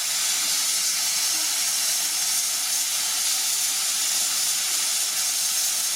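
A steady, even hiss of steam venting from a Cecotec GM H Deluxe Fry multicooker runs unbroken throughout, close and fairly loud, with no voices.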